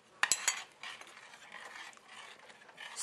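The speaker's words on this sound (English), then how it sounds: "Stir in and continue to cook on low heat." A spoon stirs chopped basil and parsley into simmering marinara sauce in a pot, making a few sharp metallic scrapes followed by soft, wet swishing and faint bubbling, quiet and close.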